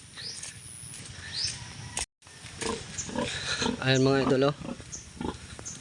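A sow grunts and snorts nearby in a few short bursts, with someone talking briefly over the animal noises.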